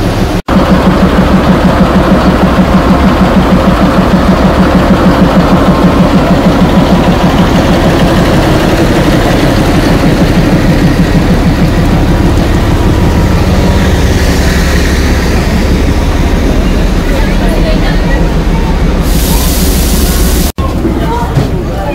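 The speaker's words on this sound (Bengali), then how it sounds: "ডিজেল ইঞ্জিনটা।" A diesel locomotive of a Himalayan railway train, run by Northeast Frontier Railway, idles at a mountain station with a loud, steady low engine rumble throughout, a faint crowd murmur underneath and a brief dropout near the end.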